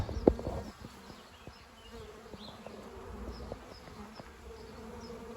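Swarm of honeybees settled on a tree branch outdoors, a dense continuous buzzing drone with individual bees flying past close by, steady and fairly loud.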